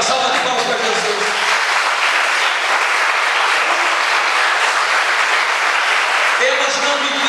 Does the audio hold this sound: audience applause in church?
yes